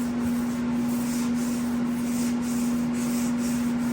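A sander working over a 1985 Jeep CJ7 body panel during restoration, a continuous even rubbing hiss with a steady motor tone, close and unbroken for the whole stretch.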